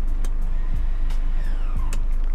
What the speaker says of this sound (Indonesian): akan terdengar lagi suara dengung yang berasal dari motor EPB